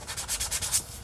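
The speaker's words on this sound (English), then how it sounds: "possibly, potentially, got a little bit of sandpaper here." Sandpaper rubbed back and forth over a shiny craft surface, a quick series of about six close, raspy strokes in steady rhythm, alone without voices.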